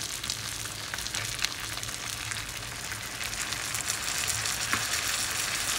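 Bhetki fish frying in a pan with masala, a steady, close sizzle with crackling spatter that stays busy throughout and occasional sharper pops.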